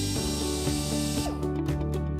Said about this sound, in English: Using a drill with a 1/8 diameter drill bit,